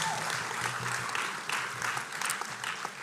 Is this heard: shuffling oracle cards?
no